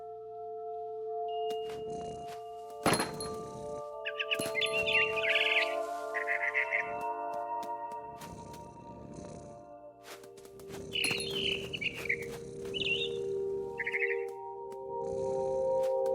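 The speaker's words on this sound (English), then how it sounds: "It was a barn swallow going back to her nest." Barn swallow chirps in the video game What Remains of Edith Finch: two bursts of bright twittering calls over a steady ambient game soundtrack, with a sharp clap-like hit near the start.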